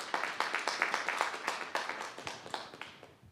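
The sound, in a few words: audience applause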